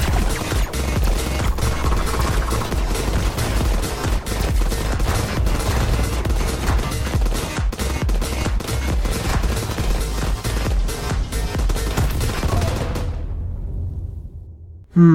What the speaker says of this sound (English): it'll detonate on enemies and create a large explosion.